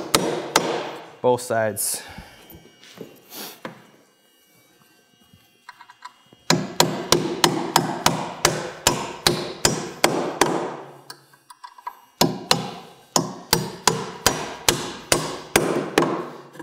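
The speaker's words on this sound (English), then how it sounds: "it'll guide the nail when you drive it home" A hammer drives nails into metal joist hangers during floor framing, with a quick burst of blows, a pause, then two long runs of sharp, evenly paced strikes close by, and a brief spoken remark near the start.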